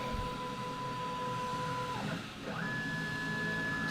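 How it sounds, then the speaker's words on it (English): A kennel tag engraving machine cuts a name into a tag with a constant mechanical hum and high whine, its pitch stepping up once partway through, close and steady with no talk. "So the machine is now engraving the name."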